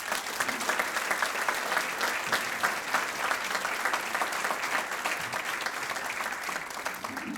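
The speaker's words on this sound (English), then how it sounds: "Please give him a warm round of applause." Audience applause for a state senator at a State of the State event in Torrance, California: steady, dense clapping from a sizable crowd, sustained and fairly even throughout.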